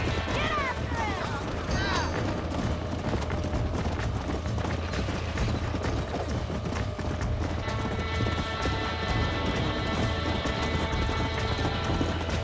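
A horse gallops in the video game Red Dead Redemption, a steady rapid clip-clop of hooves running continuously over game ambience and music.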